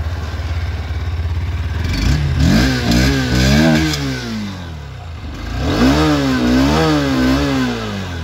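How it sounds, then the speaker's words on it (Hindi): A Honda Hornet 2.0 BS6 motorcycle engine revs hard twice, its exhaust note rising and falling in loud, throaty sweeps over a steady idle. "आइए हम सुन लेते हैं इसका एग्जॉस्ट नोट को"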